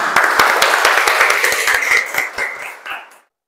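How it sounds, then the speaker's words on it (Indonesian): A classroom of students clapping together, a lively burst of close, uneven hand claps that thins out and stops after about three seconds. "Tepuk tangan."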